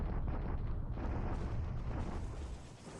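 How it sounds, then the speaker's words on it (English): Artillery bombardment in the War in the Pacific strategy game: a continuous rumbling roar of explosions, loud and dense, easing slightly toward the end, with no talk. "another bombardment here at Patong"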